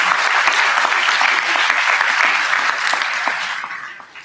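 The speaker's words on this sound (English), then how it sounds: "Let's give another round of applause for Mr." Loud, dense audience applause at an eighth grade promotion ceremony, sustained evenly before tapering off at the end.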